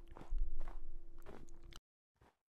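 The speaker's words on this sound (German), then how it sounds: "Ich höre schon wieder die Schritte." A creature, the Goatman in a Minecraft horror mod, takes a few crunchy, irregular footsteps close by on rough ground, then the sound cuts to silence before one faint step and a final sound at the end.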